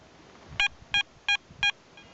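Four short electronic beeps from a Garrett ATX metal detector starting up, in an even rhythm, clear and fairly close, followed by a faint fifth tone over quiet background.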